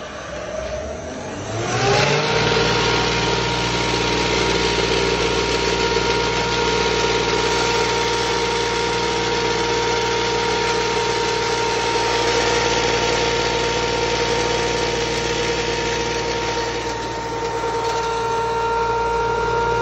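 A Fairuz 4HP 3000W 110V grain mill starts up and winds up to a loud, steady motor drone with a constant whine while it grinds dry mote corn. The sound holds unbroken for the whole stretch with no talk.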